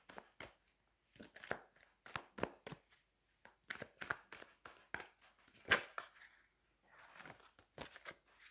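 Tarot cards being drawn and handled during a reading, producing faint, close papery snaps and shuffling rustles in an irregular run of quick short strikes.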